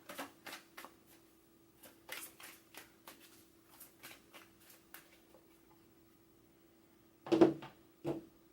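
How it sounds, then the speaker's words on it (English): Tarot cards flick and riffle in a run of soft, quick taps, then a pause before two sharper snaps as cards are drawn and laid down, close and quiet, with a faint steady hum underneath. "Let me just get another clarifier card."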